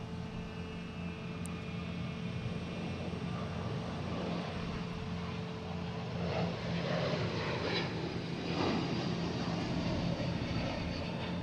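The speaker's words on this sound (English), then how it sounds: "We just had a Delta takeoff heading to San Diego." A Delta Airbus A321neo airliner takes off at Boston Logan International Airport, heard as a steady, broad jet roar that swells louder partway through and holds.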